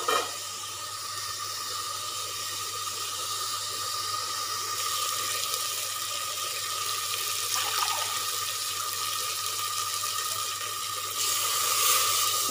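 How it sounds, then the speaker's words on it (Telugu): Water pours steadily and continuously into a cooking pot for village-style pulao, a hissing, splashing stream that runs on for several seconds and swells louder near the end, with no talk. "ఇప్పుడు మనము వాటర్ యాడ్ చేసుకున్నామండి"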